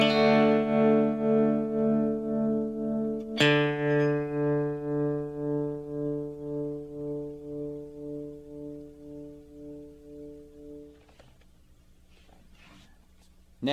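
An electric guitar runs through a Danelectro Filthy Rich tremolo pedal with the depth turned up. A sustained chord pulses in a steady, deep volume throb, is re-struck partway through, and then fades away.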